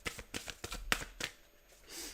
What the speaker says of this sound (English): Let's shuffle up your main deck,